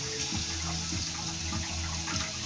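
Steady running tap water splashes over raw cut meat being rinsed in a sink, a continuous close wash with no talk.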